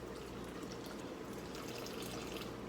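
Warm water pours steadily into a bowl on a kitchen scale, a continuous close splashing trickle filling the vessel for about 300 grams, with no voices over it.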